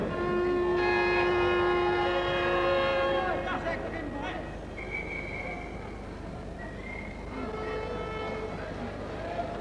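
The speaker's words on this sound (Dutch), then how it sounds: "Er zijn wat toeters hier en men dacht dat er officieel getoeterd werd." Plastic horns blown by spectators at a televised mini football match in 1979, long blaring tones up front, then shorter toots through crowd noise with a commentator talking.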